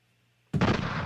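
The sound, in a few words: gunshot sound effects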